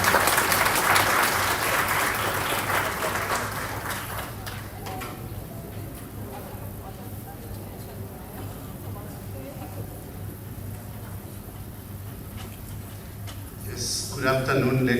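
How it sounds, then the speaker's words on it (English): Sustained applause from a crowd fills the room at an event in Nairobi, steady and fairly loud, with a low hum underneath and a brief rise near the end. "A round of applause to him as he makes his way here."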